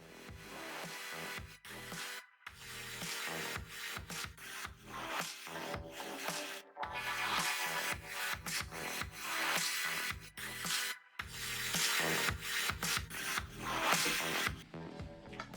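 A graphite golf driver shaft being roughed up with an abrasive: close, loud rasping scrubs come in repeated back-and-forth strokes separated by brief pauses, with no talking.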